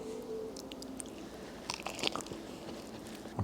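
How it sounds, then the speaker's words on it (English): Crisp crunchy bites and chewing close up into a crispy fried-dough hot dog roll, a few sharp crackles over quiet background hum, no talking. "this is the bite. Hot dog roll bite."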